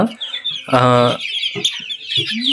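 Brahma chickens clucking close by in short bursts, with one louder drawn-out squawk, clear and near.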